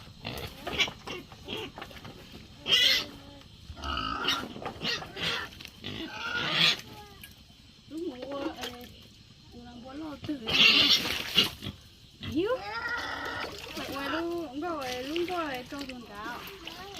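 Pigs being fed on a farm grunt and oink in repeated bursts, close and fairly loud, while people talk nearby.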